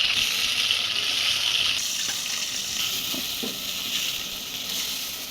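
Chopped onion and green chili paste hit hot oil and fry with a steady, bright sizzle, a continuous hiss with small crackles throughout, close and fairly quiet.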